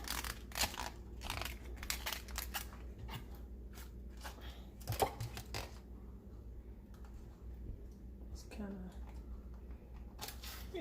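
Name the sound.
cutting cabbage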